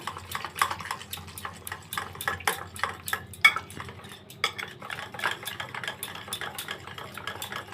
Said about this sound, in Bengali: সুজির ব্যাটারটা ভালোভাবে মিশিয়ে নিয়েছি।